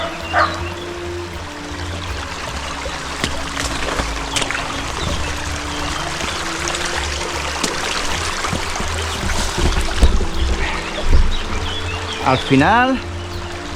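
Footsteps wading and splashing through a shallow arroyo stream near the Casas Cuevas del Arroyo de la Ventilla, with water trickling and sloshing continuously, a few sharper splashes, and brief speech near the end.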